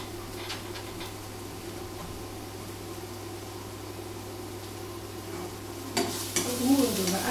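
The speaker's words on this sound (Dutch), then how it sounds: "Dan roeren we een uitje." Onion sizzles quietly while being stirred in a frying pan, a soft steady crackle with a few scraping stirs of the utensil near the end.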